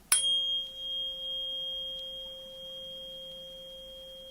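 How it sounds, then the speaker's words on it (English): A 528 Hz tuning fork is struck with a light click, then rings as a pure, steady tone that slowly fades in a quiet room. "So here's my tuning fork, and I'm just going to play it for you."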